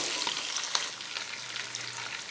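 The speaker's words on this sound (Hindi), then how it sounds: "चिकन हल्की सी ब्राउन हो जाए" Chicken pieces fry in a pot until lightly browned for pulao, giving a continuous bright sizzle with a few crisp pops and stirring scrapes at moderate volume.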